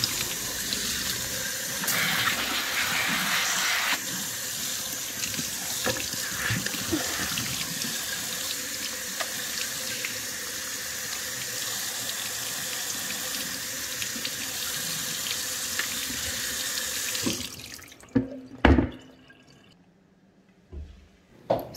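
Shrimp being washed under a running kitchen tap for soup: a steady, close gush of water splashing into a sink for most of the stretch, then stopping, followed by a few drips and clatters.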